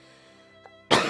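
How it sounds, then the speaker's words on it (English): A single sharp cough bursts out after a quiet stretch, loud and close, with a faint click just before it. "Sorry, I need to cough."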